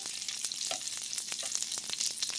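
Steak fingers fry in a pan with a steady, bright sizzle, crackling and popping close by at moderate volume, with a few soft knocks as pieces are moved; no voices.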